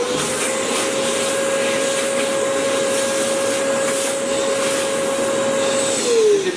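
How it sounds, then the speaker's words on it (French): A workshop vacuum cleaner fitted with a small Bluetooth remote on its hose end runs with a loud, steady whine and broadband rush throughout, with a slight shift in tone near the end. "l'aspirateur est là, moi je suis là, j'ai la télécommande qui est ici"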